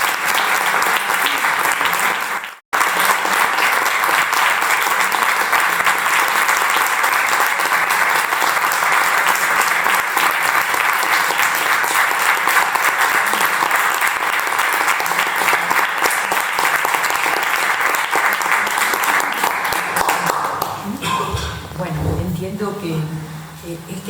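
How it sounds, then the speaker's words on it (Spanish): An audience applauds a poet at the presentation of her poetry collection, with dense, sustained clapping for about twenty seconds. A brief gap comes early, and the clapping thins out at the end as voices start. "Este aplauso se lo merecía María Ángeles, de verdad."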